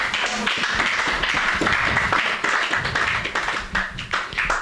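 A church congregation claps together in steady, dense applause, loud and close, with a few faint voices mixed in.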